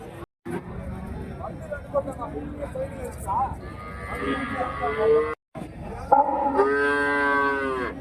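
Jersey cows moo loudly several times at a cattle market, long drawn-out bellows with rising harmonics, over steady background chatter and farmyard noise.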